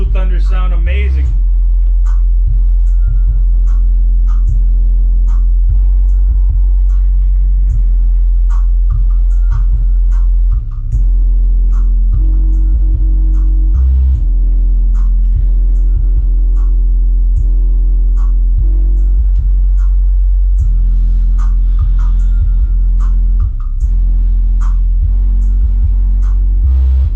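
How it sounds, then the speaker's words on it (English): Deep song bass pounds steadily through Blue Thunder car subwoofers driven by an old-school Pioneer Premier DEH-P760MP head unit, loud and throbbing with regular low thumps for the whole stretch. "Those subs are really working."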